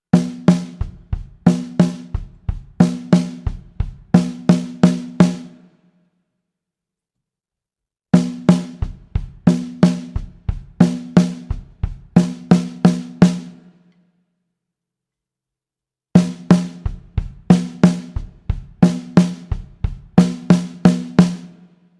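Drum fill in groupings of four, right and left hand strokes on the snare alternating with double kick drum hits, played three times then closing with right-left on the snare; three loud, crisp repetitions separated by silent gaps.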